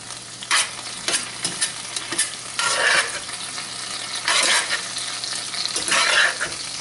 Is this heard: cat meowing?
no